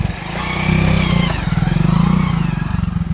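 Motorcycle ridden along a rough rural path near the Sundarbans, its engine chugging close and loud with a steady pulsing throb, rising slightly as it works over uneven ground, no talk.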